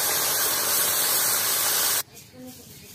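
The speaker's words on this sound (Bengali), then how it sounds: "এখন জল দিয়ে দিব।" Water pours into a pan set up for steaming dhokla, a loud continuous rushing splash that stops abruptly near the end, leaving only faint background sound.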